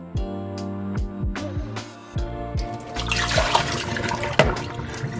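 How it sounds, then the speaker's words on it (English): Turkey breast being rinsed under running water: a few sharp splashes and clunks at first, then a continuous rushing stream with bursts of sloshing, close and fairly loud, no talking. "So I'm gonna give it one more rinse and then we can pat it dry"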